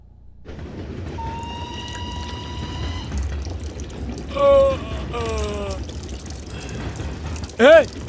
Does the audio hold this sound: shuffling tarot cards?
no